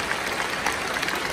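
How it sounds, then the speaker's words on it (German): A crowd at a cosplay contest applauds the security staff, broadband clapping that holds steady and fairly loud across the whole short stretch. "Nochmal Applaus für die Securities"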